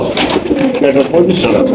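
A pair of Bombai pigeons sits close by, their low, throaty cooing blending with a voice that runs almost continuously over the calls.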